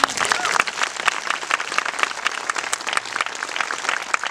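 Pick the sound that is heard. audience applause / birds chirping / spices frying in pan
audience applause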